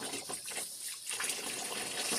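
Tap water runs in a steady, hissing stream, fairly close, with a slight dip in the flow partway through.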